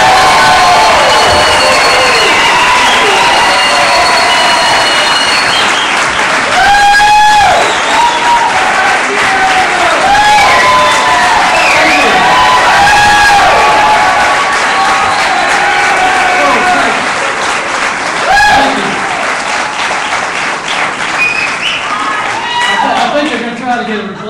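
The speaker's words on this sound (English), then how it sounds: "let's do the loudest applause we can" Large crowd at a Red State political gathering applauding and cheering loudly and steadily for a senator, with whoops and shouts rising above continuous clapping throughout.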